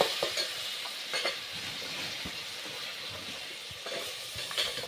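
Cauliflower, peas and tomatoes are stirred together in a hot pan for dhaba-style khichdi. A steady low sizzle runs throughout, and scraping strokes of the spoon come through now and then, fairly quiet and close.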